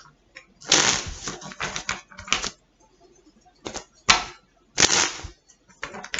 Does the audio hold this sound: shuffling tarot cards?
yes